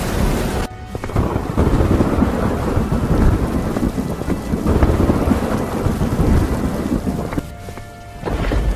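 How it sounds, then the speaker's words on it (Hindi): Heavy rain pours steadily with rumbling thunder rolling underneath, loud and continuous for the whole stretch and briefly dipping near the start and end. "देखो बारिश और तेज हो रही है"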